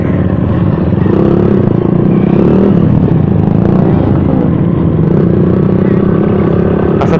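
A cafe-racer style motorcycle at a CB Day gathering runs with a loud, continuous engine rumble and mechanical clatter, steady and close throughout.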